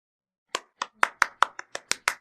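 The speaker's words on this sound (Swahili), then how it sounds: "Hebu jipigie makofi basi angalau" An audience claps hands in a short burst of about eight sharp, evenly spaced claps, close and distinct, with no talking over them.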